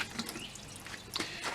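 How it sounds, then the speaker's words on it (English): Water trickles and drips into a toilet bowl, a soft continuous wet patter with a few brighter splashy drips standing out, quiet and close. "Now the slow trickle going in there won't flush your toilet"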